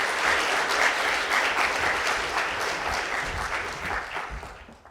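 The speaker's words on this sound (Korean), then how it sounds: "환영사 전해주신 이종성 이사장님께 여러분 계속해서 큰 박수 부탁드리겠습니다." Loud, sustained applause from an audience at a disability job-development results-sharing event in Korea, following a welcome address; dense clapping that slowly fades toward the end.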